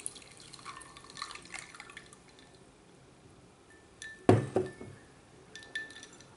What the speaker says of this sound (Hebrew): אני אשפוך מים רותחים.